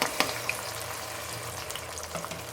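Tomato paste hits hot cumin seeds in a pan for mash dal and sizzles in a steady, quiet frying hiss, with a couple of faint clicks near the start.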